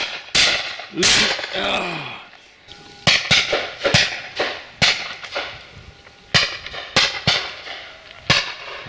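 Repeated shotgun blasts ring out at a partridge shoot, sharp and loud, with around ten cracks spaced irregularly and a few in quick pairs, while a man's brief exclamation and a whistle-like call are heard early on.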